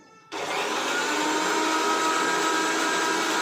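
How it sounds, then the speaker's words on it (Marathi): A mixer grinder starts up and grinds whole spices, a loud steady whirring drone that begins abruptly and runs on close by. "इथे हे खडे मसाले घेतले मिक्सरला बारीक"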